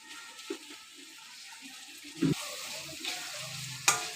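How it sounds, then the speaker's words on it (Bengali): Onions frying in a pan in a home kitchen, a soft steady sizzle with a few sharp clinks and stirring knocks near the middle and end. "দেখো, পেঁয়াজ ভাজা হচ্ছে।"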